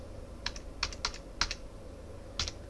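Computer keyboard keys are tapped while Python code is being written, giving several quick scattered keystrokes, close and fairly quiet, with no talking.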